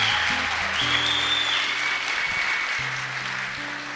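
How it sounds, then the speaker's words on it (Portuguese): Audience applauding at a Catholic talk, a steady dense wash of clapping that holds at an even level for the whole span, with low tones from a faint background melody running underneath. "você está aplaudindo por quê?"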